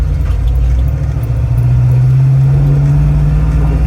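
A Fox Body Mustang's engine runs with a loud, steady low rumble heard from close by, a droning tone rising slightly midway as the car gets under way.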